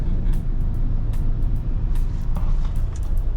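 Car driving through the streets of Soweto, a steady close rumble of engine and road noise inside the vehicle with faint intermittent clicks, no voices.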